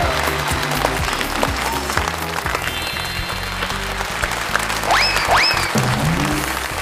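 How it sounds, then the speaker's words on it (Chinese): A studio audience on a Chinese TV quiz show applauds in a dense, sustained, loud burst of clapping, with a few whoops and vocal cries rising through the steady noise. "掌声不到1分钟，我不会开口说话的"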